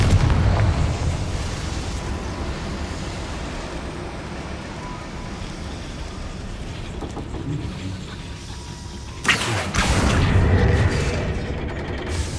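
A Confringo fire spell exploding inside a goblin mine in Hogwarts Legacy, a sudden loud boom that breaks through a continuous low rumbling game ambience, followed by a sustained roaring blast.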